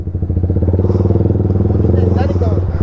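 A Yamaha R15 V3 motorcycle engine thrums close and loud with a steady, rapidly pulsing drone that stays even across the whole stretch.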